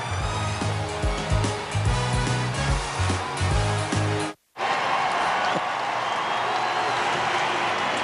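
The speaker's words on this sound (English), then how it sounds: "Pretty nice crowd here at Chase Field this Saturday night" A Saturday night baseball crowd at Chase Field during a Mets vs Diamondbacks game, a broad steady roar of many voices with a brief cut to silence midway before the crowd noise resumes.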